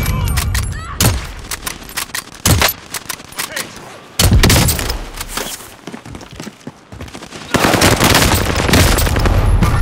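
Call of Duty Black Ops 2 multiplayer gunfire cracks out loud and close in rapid automatic bursts and single shots, with heavy thumps between volleys.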